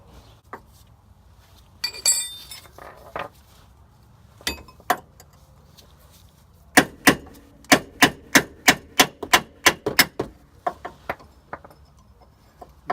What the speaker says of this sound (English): So that we're going to end up using a hammer on.